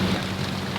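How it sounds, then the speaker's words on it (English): Rain falls in a steady, dense hiss, a brief continuous wash of drops without pauses. "It's raining."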